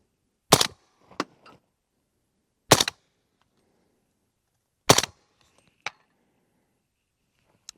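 A 300 BLK rifle fitted with a Dual-Lok 7 suppressor fires three sharp, close shots about two seconds apart, each followed by a faint metallic clink, with quiet between them.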